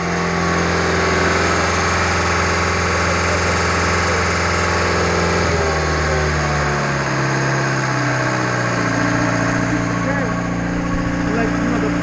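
A Schwing BPA500 concrete pump engine runs steadily at a slow, low speed, a continuous droning hum that drops slightly in pitch about midway, with voices talking over it.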